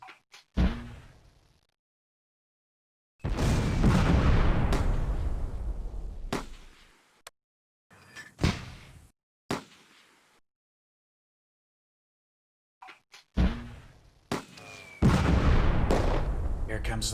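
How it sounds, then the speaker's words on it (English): Mortar fire in the World War II strategy game Close Combat: A Bridge Too Far, loud booming detonations and sharp blasts arriving in separated bursts with long silent gaps between them. "Here comes the mortar fire"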